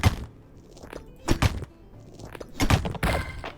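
In the video game Fields of Mistria, a shot bomb strikes a rock, giving several short, hard thunks in uneven succession, close and fairly loud, with no talking.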